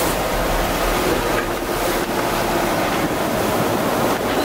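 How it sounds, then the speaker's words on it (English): Huge ocean waves and strong wind surround a sailboat at sea off San Vicente Island, Cape Verde, a continuous loud rushing roar with wind buffeting the microphone and surging swells. "Huge waves."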